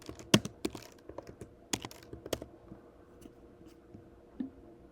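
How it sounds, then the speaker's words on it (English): Irregular clacks from a computer keyboard as someone types a name, crisp close keystrokes in short uneven runs with small pauses, no voices. "I type in her name"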